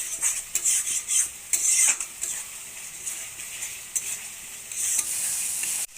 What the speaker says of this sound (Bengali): পরিমাণ মতন হলুদ গুঁড়া, লঙ্কা গুঁড়া, হাফ চামচ জিরে গুঁড়া ভালো করে কষিয়ে নিব।